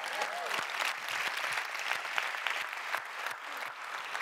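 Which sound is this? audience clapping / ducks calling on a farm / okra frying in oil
audience clapping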